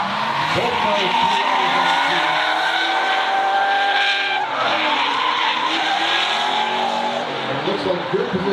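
Drift cars on a competition run, tyres skidding and squealing continuously with engines howling, loud and close throughout, under an announcer's commentary.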